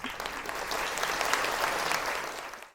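Steady applause from an audience honoring board members at a legislative talk on stalking laws, a dense wash of many hands clapping that holds evenly for nearly three seconds before tapering off.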